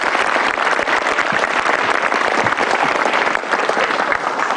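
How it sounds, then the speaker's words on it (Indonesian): A studio audience at a motivational talk show applauds loudly and steadily, a thick, continuous wash of clapping from many hands that holds at full strength throughout. "Tepuk tangan sekali lagi dong buat Anda semua."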